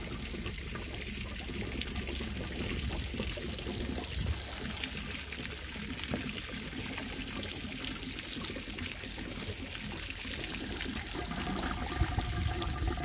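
Water sprays steadily onto beeswax, making a continuous hissing, trickling wash that stays at an even level throughout.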